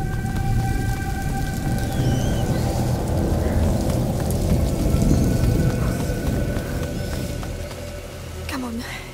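Steady rain in the video game A Plague Tale: Innocence, a dense continuous hiss under low rumbling ambience, with faint tonal game sounds drifting over it.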